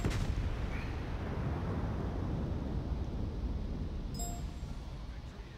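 A torpedo strikes a destroyer in a naval warfare video game, a sharp explosion at the start trailing into a long dull rumble, with a faint voice briefly in the background.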